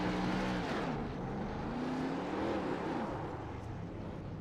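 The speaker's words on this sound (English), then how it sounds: "See if he can pick up on Blake Roebuck doing his burnouts" Race cars in an ARCA series racing video game at Charlotte roar with sustained engine revving and tire burnouts, a loud continuous motor drone with shifting pitch and no talk.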